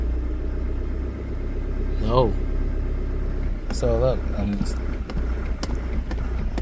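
A 2007 Toyota Fortuner engine idling roughly in limp mode with fuel pressure faults, a constant low rumble close by, while someone talks over it.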